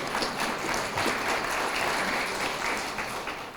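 An audience at a Baldwin Wallace University welcome event for an incoming president applauds in a steady, moderately loud wash of clapping that eases slightly toward the end.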